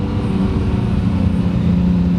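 A 2018 Acura NSX engine hums from inside the cabin during a downshift, a loud sustained drone carrying a thin steady whine with no talking.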